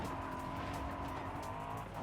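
A low-slung sports car driving in Forza Horizon 5, its engine holding a steady, dense roar with tyre noise throughout, fairly quiet and continuous without any break.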